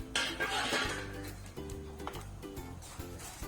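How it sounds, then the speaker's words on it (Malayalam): Short vermicelli pieces are stirred and roasted in ghee in a pan, with a spoon scraping and clinking against the metal in uneven, repeated strokes up close, while the background stays fairly quiet. "നല്ലപോലെ ഇളക്കി വറുത്തെടുക്കാം"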